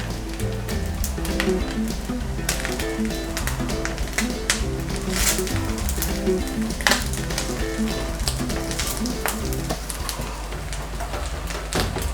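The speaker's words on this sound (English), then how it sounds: "I'll add in my scent leaves. And stir." Scent leaves stirred into sizzling Nigerian native jollof rice, a steady close frying crackle with scattered utensil taps and scrapes against the pot throughout, plus a low continuous hum underneath.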